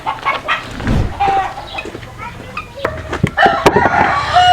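Farmyard chickens cluck and a rooster crows at moderate distance amid scattered clatter, with livestock feeding going on nearby.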